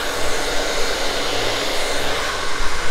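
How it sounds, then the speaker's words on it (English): Blow dryer running continuously while styling hair with a nylon brush, a loud, steady airy whoosh with slight fluctuations as the brush moves, alone without talk. "we've got a blow dryer, the nylon brush, and we're gonna over-direct this forward"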